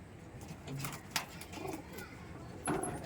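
Soft Teddy pigeon coos come in short, low repeated phrases, fairly close, with a few light rustles and clicks around them.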